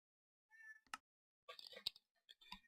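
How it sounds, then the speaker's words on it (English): A cat in a fantasy role-playing video game gives soft, brief meows and chirps in a few short separate bursts, faint and with quiet gaps between them. "My cat is now talking to me again."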